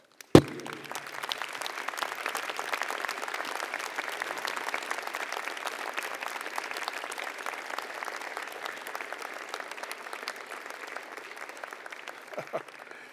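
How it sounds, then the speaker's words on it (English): A graduation convocation audience applauds steadily in a large hall, a dense, even roar of many hands that carries on for several seconds and tapers slightly near the end, with a brief thump at the start. "Let's give them a huge round of applause."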